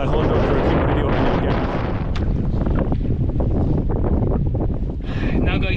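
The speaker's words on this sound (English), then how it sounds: "It's quite windy, so I hope you can hear me" Heavy wind buffeting the microphone in a constant loud rumble beside a lake in Ireland, with a brief voice nearly buried underneath.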